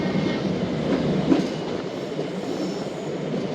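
The Khyber Mail passenger train rolls along the rails on Pakistan's ML-1 main line toward a station, a steady rumble of wheels and carriages with faint clacking, fairly close and unaccompanied by talk.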